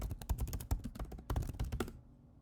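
Rapid typing on a Mac keyboard while entering a terminal command, a close run of crisp key clicks in quick bursts for about two seconds before stopping into quiet.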